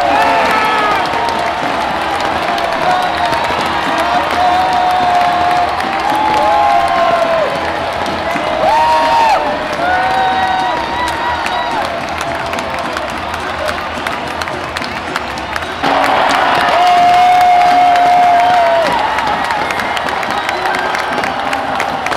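A loud baseball stadium crowd roars at Guaranteed Rate Field during the White Sox vs. Cubs Crosstown Classic after Jose Abreu hits a double. The cheering swells and falls for over twenty seconds, with whoops and nearby voices mixed in.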